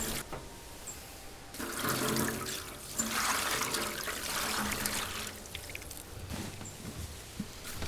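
Water poured from a container onto coco coir bricks in a bucket, a continuous splashing trickle that swells and eases in several pours, close and moderately quiet with no talk.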